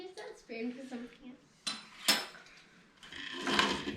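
A metal spoon clinks and scrapes against a dish of chocolate for mousse several times, sharp bright taps with short pauses, close by; a brief murmur of voice is heard.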